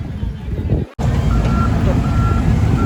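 An old truck reversing to park, empty, on a rough work site at a temple fair in Ratchaburi, Thailand, gives faint repeated reversing beeps over a loud, close, steady engine and road rumble, with voices in the background.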